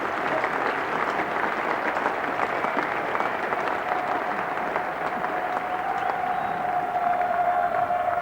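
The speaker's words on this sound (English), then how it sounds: "Splendid round of applause for Marsh, the Australian opener" A large cricket crowd at Lord's applauds a batsman's half-century, steadily and loudly throughout, a dense continuous wash of clapping with a faint tone running underneath.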